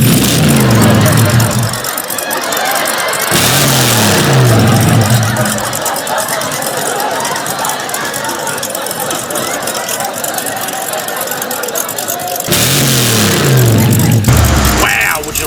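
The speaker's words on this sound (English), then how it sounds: "let's go ahead and fire up this 1989 Ford F250 and see if we've created more horsepower." 1989 Ford F250 with a reverse vacuum supercharger cranking with rhythmic starter whirs, then its engine catching into a loud rough idle and revving, with more cranking bursts between runs.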